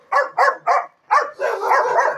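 A dog barking: three quick, evenly spaced barks, a short pause, then another bark running into a longer whining, yelping stretch, loud and close with no other sound.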